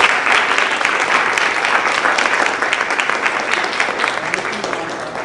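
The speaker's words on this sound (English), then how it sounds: "please give a warm round of applause for my dear friend and colleague, Dr. Kevin Bales." A lecture audience gives a warm, sustained round of applause to welcome a speaker at a talk on ending slavery to save the planet, with loud, dense, continuous clapping from a sizeable crowd.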